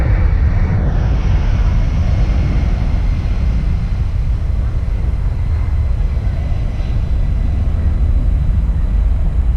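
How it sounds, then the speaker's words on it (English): A C-17 military transport aircraft takes off, a loud sustained jet roar that holds steady throughout with no talk over it. "I think we have a C-17 taking off"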